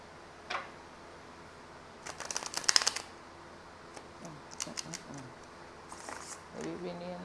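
Tarot cards being shuffled by hand, a few short crisp riffling bursts with a faint tap beforehand and soft handling noises between, close and fairly quiet.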